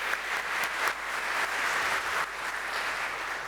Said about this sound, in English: Let's give him a round of applause for Benjamin.